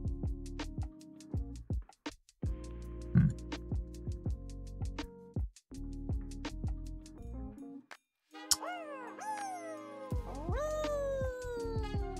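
Cat meowing in the video game Fairytale Fables: a run of bright glassy chimes and plucked game-music notes, then a drawn-out, wavering meow-like cry near the end, all fairly loud and close with no talk.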